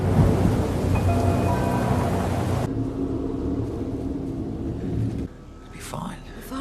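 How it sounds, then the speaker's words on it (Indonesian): Rain falls steadily with deep thunder rumbling beneath it, the downpour loud and close before easing slightly, with a brief drop in intensity near the end. "Hujan pun turun di wilayah itu"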